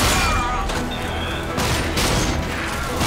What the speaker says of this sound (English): The shotgun is a type of weapon that when you hit the fire button and point it at someone, you really want to feel that kaboom.